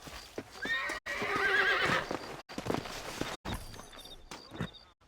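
Horses whinny and neigh loudly, with hooves clip-clopping and short breaks of silence between bursts; slightly synthetic, game-like quality, from the video game Red Dead Redemption.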